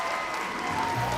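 A cartoon crowd cheers and applauds a winner, a continuous wash of clapping and voices at even loudness for the whole short stretch, with no single speaker standing out.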